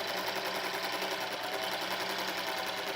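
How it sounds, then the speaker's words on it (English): Sewing machine running steadily while it stitches jelly roll fabric strips for a quilted pillow cover, a fast even whir close by with no pauses or talking. "I'm going to sew on the other end"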